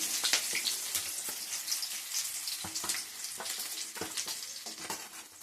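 Onions and green chillies frying in oil in a pan, a steady close sizzle with scattered crackles and stirring scrapes running throughout, no voices.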